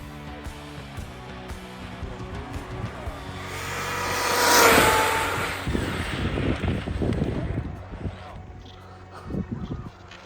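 A radio-controlled car on a LiHV battery doing a speed run, a rising whine that swells as it races past near the middle, then fades amid wind noise and low rumbling.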